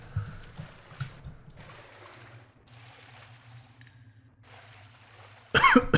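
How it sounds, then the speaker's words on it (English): A person coughs sharply once at close range near the end, after quiet low background noise and a few faint rustles. "apologise if I'm coughing a lot"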